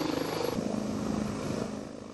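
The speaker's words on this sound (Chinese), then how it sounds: "闽南某海域各型直升机由多个野战机场分批次起飞" Military attack helicopters fly low over the sea off southern Fujian, a steady beating rotor thrum with fast rhythmic pulses that fades slightly toward the end.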